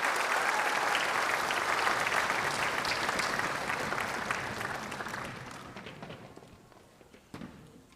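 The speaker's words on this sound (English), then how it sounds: "how about one more round of applause for these wonderful kids?" An audience at a school spring concert applauds the student performers, a dense, steady wash of clapping that gradually thins and fades toward the end.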